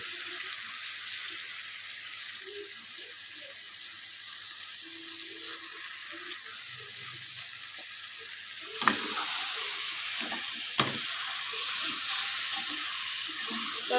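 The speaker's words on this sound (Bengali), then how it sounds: "এবার পটল আলুটাকে ভালো করে এর সাথে মিক্স করবো" Pointed gourd and potatoes being mixed in a frying pan produce a constant low sizzle throughout, with two sharp utensil knocks or scrapes near the end and no talking.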